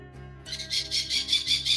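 Squawking bird in the space-survival game Hellion. It gives a quick run of loud, harsh, repeated cries that starts suddenly after a near-silent hum and pulses about five or six times in under two seconds.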